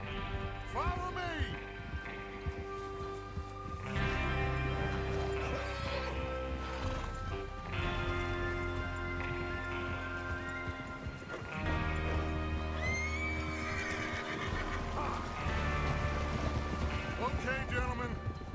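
Horses gallop in Red Dead Redemption 2 with steady clip-clop hoofbeats and occasional whinnies, over a continuous musical backdrop and intermittent talking.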